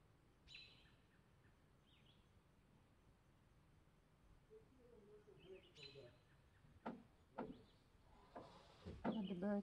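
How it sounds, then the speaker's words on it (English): A bird calls close by in a few short chirps, then grows busier near the end, loud and clear over a quiet outdoor background with faint talk. "There's a bird in close proximity"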